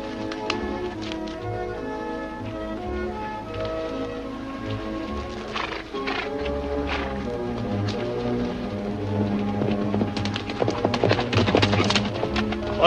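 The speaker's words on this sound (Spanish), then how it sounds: "Señor Roddock, ese es el caballo de Whitey." Horse hooves clip-clopping in a western film, a steady run of hoof beats under layered background sound, growing busier and sharper toward the end.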